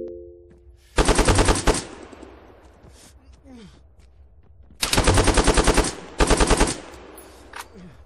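AK rifle fire in the ArmA 3 combat game, three loud sustained automatic bursts with a quieter pause between, gunfire close and dominant over faint background.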